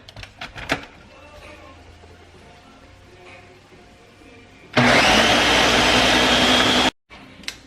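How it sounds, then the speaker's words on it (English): Blender whirring chipotle sauce until creamy, a loud steady roar starting abruptly after a few clicks and stopping after about two seconds. "Now we're going to blend it until it's nice and creamy."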